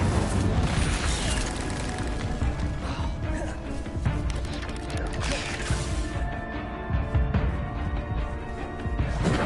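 Fire spell blasts in the video game Hogwarts Legacy, a dense roaring wash of bursts and crackling magic layered over game music and effects, loud and continuous throughout.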